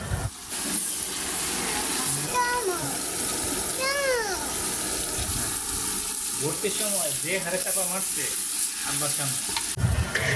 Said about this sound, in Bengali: এখন এগুলোকে ভালোভাবে ভাজবো